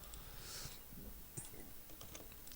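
Quiet computer keyboard typing with a few scattered key presses, including the Shift key, soft and close against faint background hiss, with no speech.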